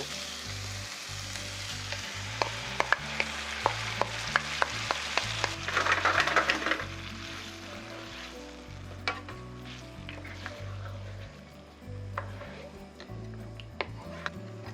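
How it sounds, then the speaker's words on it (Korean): Squid, shrimp and clams simmer in tomato sauce in a pan, a steady close bubbling sizzle with scattered pops and light clicks running throughout, with no talk. "오징어와 새우가 어느 정도 익은 게 보인다면 토마토 소스를 넣고 끓여주세요"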